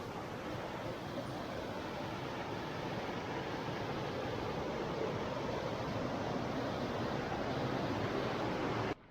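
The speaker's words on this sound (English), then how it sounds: "Nice little creek, so we figured why not." A small mountain creek beside a roadside pull-off on a Gatlinburg motor nature trail rushes steadily, a constant broadband wash of flowing water with no voices.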